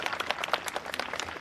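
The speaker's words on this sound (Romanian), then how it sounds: "Vă rog, haideți să-l aplaudăm împreună pe acest om și distins extraordinar." A crowd at a Romanian National Day ceremony in Moinești applauds a war veteran, with dense, continuous clapping and no talk.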